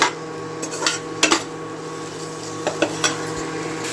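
Spices being mixed into potatoes and tomatoes in a pan, with a utensil clinking and scraping against the metal in a handful of quick, separate knocks over a low background hum.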